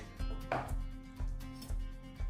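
Chives are cleared off a chopping plate in a home kitchen while making an omelette, giving quiet, evenly spaced knocks and taps close by, with no talk.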